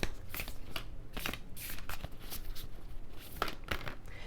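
Secret Language of Light oracle cards being shuffled by hand close up, a rapid run of crisp riffling and slapping bursts that repeats throughout, with no talking.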